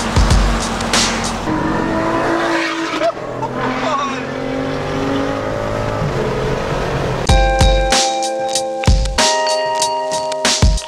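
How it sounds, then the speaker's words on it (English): A Lotus car revving hard in a tunnel during a road rally, loud engine roar and tire noise echoing off the walls, then sharp repeated high-revving bursts, with people talking over it. "Lotus full rev in the tunnel."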